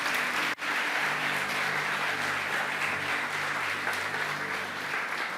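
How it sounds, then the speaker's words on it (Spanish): A church congregation claps during a sermon, a full and steady round of applause from many people, with a low hum beneath it, lasting about five seconds. "Vamos, aplaude eso"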